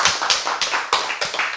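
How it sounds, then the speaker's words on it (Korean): Short burst of applause in a church lecture setting: a few hands clapping in an even, fairly quick rhythm, about six distinct claps, close and crisp with no talking over them. "박수."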